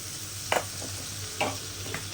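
Chopped tomato sizzles in a hot pan for a village-style country chicken curry, with a steady fry hiss broken by a few sharp stirring scrapes of a spoon.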